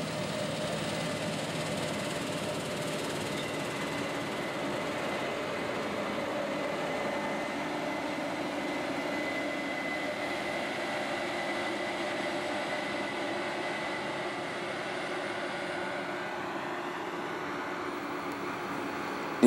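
A Case IH 9240 combine harvester with a 40-foot draper head drones steadily in a field for a long stretch, a constant low mechanical rumble and whir with no breaks or voices.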